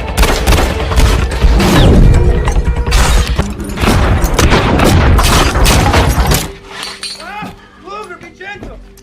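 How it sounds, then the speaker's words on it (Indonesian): Shootout gunfire in an action film soundtrack, dense bursts of shots and impacts with clinking debris, loud and continuous for several seconds before fading into quieter scattered sounds. "langsung terjadi saling tembak di antara mereka"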